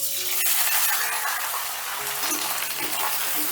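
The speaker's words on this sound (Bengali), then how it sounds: "তেলটা ঠিক ভালো মতো গরম হয়ে গেলে দিয়ে দিচ্ছি কেটে রাখা ভেন্ডিগুলো" Cut okra hitting hot mustard oil in a pan, a loud, dense hiss of frying that holds steady, with a few soft clattering bumps near the end, close up.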